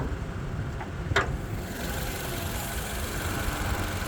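A 2017 Toyota Camry SE's 2.5 liter 4-cylinder engine idles with a steady, even low hum, one brief click near the start.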